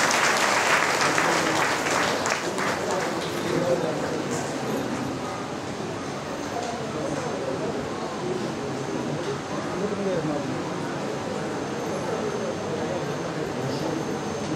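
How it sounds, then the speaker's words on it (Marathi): An audience claps through a felicitation ceremony with shawl and garland presentations, loud sustained applause at first that thins to steady lighter clapping, with voices and a dog's yips faintly in the background. "टाळ्या वाजवा सर्वांनी"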